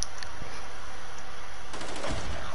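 Gunfire in Modern Warfare 3, a dense burst of loud automatic shots near the end over constant game background noise.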